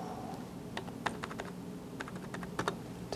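A computer keyboard is tapped in short scattered clicks, a few quick keystrokes at a time over a low steady room hum, close and moderately quiet, with no speech.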